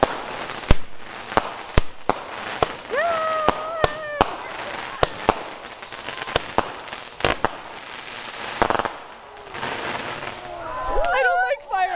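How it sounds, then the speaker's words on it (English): Fireworks going off in a rapid string of sharp cracks and pops of varying loudness, some whistling rising tones, then a dense crackling burst at the end, with excited voices faintly present. "Fireworks! Fireworks!"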